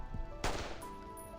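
A single sharp gunshot in a Reverse: 1999 story scene, a pistol held to a man's temple, cracking out loudly over a quiet music bed and then fading into a short decay.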